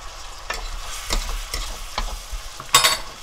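Garlic is stirred and fried in a pan for spicy braised Korean potatoes, with several distinct scraping strokes of the spoon over a soft sizzle and a louder burst of frying near the end.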